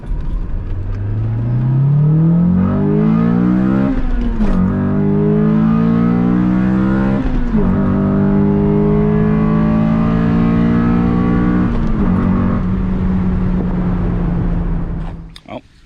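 A Honda Del Sol engine fitted with a cold air intake and stock exhaust revs loud and close, its note climbing steadily through several gear changes with brief dips between pulls before cutting off at the end.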